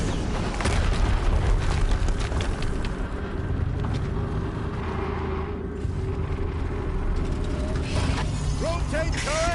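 Mechanical whirring and ratcheting of a turret rotating in the video game Horizon Zero Dawn, steady and loud over a dense rumble of game effects and booms, with a rising chirp near the end.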